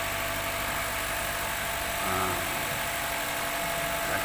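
A car's engine idles steadily while its air conditioning is recharged with refrigerant gas, giving a continuous close hum with broad hiss and a slight swell in the middle; no one talks.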